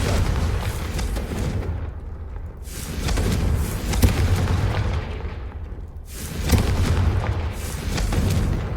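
Confringo blasting spell explosions in the video game Hogwarts Legacy, a series of deep booming blasts that swell and fade in waves, with no talking.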